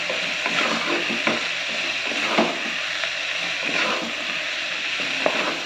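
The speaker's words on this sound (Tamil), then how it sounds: "அடுப்பை சிம்மில் வச்சு எல்லாத்தையும் நல்லா வதக்கிக்கலாம்" Onions and green chilies sizzle and crackle steadily in a hot pan on low heat, with occasional scraping stirs, close and fairly loud, no voices.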